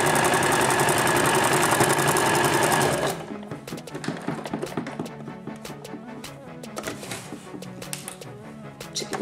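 Sewing machine stitching a jacket, running in a fast, steady whir for about three seconds, then stopping into clicks, rustles and pin handling close by.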